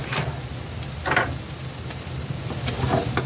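Fried rice with oyster sauce being stirred in a pan, a steady sizzle of frying under intermittent scraping and clinking strokes of the spatula, close and moderately loud, with no speech.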